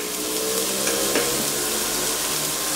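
Onion and garlic going into hot chicken fat in a pan, a loud continuous broad sizzle with a brief brighter crackle partway through, close by and with no voices.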